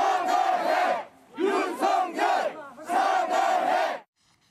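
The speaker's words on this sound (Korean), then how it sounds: "지금 마지막 부분에 이 얘기 소리는 어떤 함성이죠?" A crowd of supporters of a former president shouts in protest, heard from a played news recording as three loud surging bursts of massed voices with brief gaps between them, ending abruptly.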